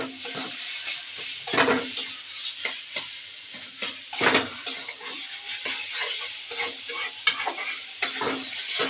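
Fish fries in a pan with tomatoes in it, making a continuous close sizzle. Repeated sharp scraping and stirring strokes sound throughout, and no one talks.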